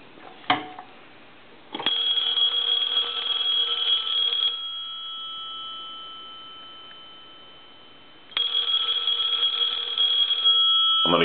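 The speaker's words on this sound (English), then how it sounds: "I'm gonna go ahead and ring the phone." A payphone bell rings during a final checkout after repair, in two long loud bursts separated by a fading pause, with a brief clunk at the start and end and no voices.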